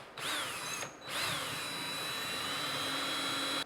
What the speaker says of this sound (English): I'm going to get a very small drill bit and drill up in there